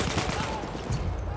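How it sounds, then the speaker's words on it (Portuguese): Bursts of gunfire ring out during a shootout in a war video game, with rapid overlapping shots and a dense, loud rumble of firing. "Fui visto, a gente vai pra trocação de tiro."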